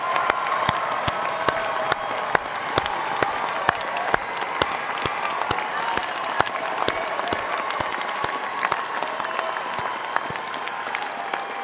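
A large crowd at a university commencement ceremony applauding graduates' families and supporters, a continuous roar of clapping with sharp individual claps standing out, steady for the whole stretch.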